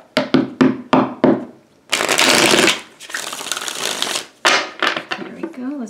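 A deck of tarot cards is shuffled by hand: a run of quick separate riffling snaps, then two longer dense bursts of shuffling, then a few more flicks, close and clear with a voice briefly heard.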